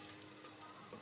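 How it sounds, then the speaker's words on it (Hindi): Garlic and ginger paste fries with onions in a pan for kadhi pakora, giving a faint, steady sizzle and crackle throughout. "इस स्टेज पे हम इसमें लहसुन और अदरक का पेस्ट शामिल करेंगे और 5 सेकंड के लिए इसको फ्राई करेंगे"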